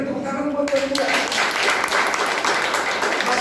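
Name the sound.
audience applause in church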